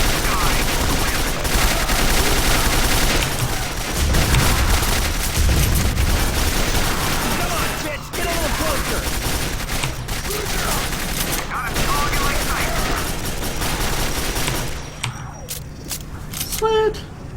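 Rapid gunfire from the video game Quake 4, dense continuous bursts of shots with explosions and combat noise, loud throughout, with a person talking over the action.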